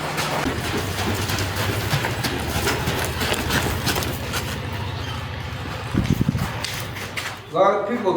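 Horse hooves clip-clop in a steady rhythm as the horse is warmed up before a ride, someone talking over the hoofbeats throughout.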